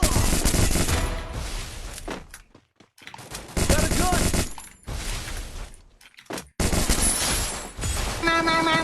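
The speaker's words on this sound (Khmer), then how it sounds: "កូនធីមបារាំងនេះបាញ់ឡើងបតចឹងងាប់" Gunfire in the mobile battle game Free Fire comes as loud, rapid bursts of shots, broken by short silent gaps and crowded together with other game sounds.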